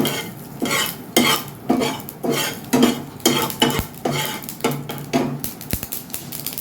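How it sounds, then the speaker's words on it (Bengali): Cumin seeds stirred in a pan with a utensil, giving rhythmic scraping and clinking strokes roughly every half second over a light sizzle, close and fairly loud with no talk. "ভালো করে নাড়িয়ে নেব।"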